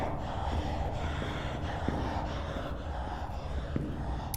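In the Sewer Call video game, heavy asthmatic breathing rasps in a slow, repeated in-and-out rhythm, close and loud over a continuous noisy rumble.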